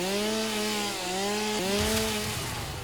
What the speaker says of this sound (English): we'll break out my trusty dusty chainsaw